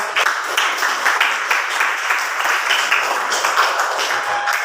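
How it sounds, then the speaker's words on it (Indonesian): Classmates applaud together in a classroom, a dense, continuous burst of many hands clapping, close and loud, lasting several seconds. "Beri aplaus untuk teman-teman kalian"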